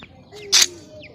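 A hen calls in a home yard: one short, sharp cluck stands out among faint chirps, close and fairly loud.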